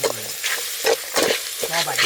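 Pork with mixed vegetables, lemongrass and herbs stir-fried in a pot makes a loud, close sizzle, with rhythmic scraping and tossing strokes from the stirring.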